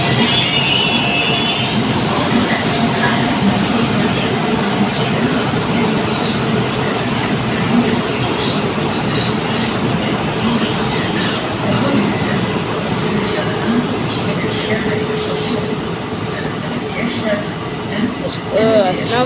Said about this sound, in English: This part of the train is loud.